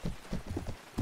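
Horse hooves clip-clop in the video game Viking Conquest, a quick rhythmic series of fairly quiet hoof beats on the ground with a sharper hit at the end.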